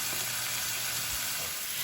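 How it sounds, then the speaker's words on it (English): Steady crackling sizzle of meat frying in a hot pan, a continuous hiss with no talking. "this is still sizzling in this hot pan"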